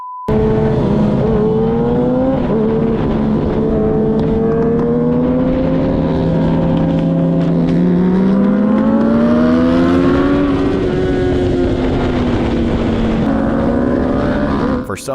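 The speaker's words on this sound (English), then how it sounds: "Bikers got excited when they saw Lamborghini pass them." A Lamborghini roars past motorcycles on the road, its engine droning loudly and continuously with pitch rising and falling as it accelerates and passes, mixed with other engine noise.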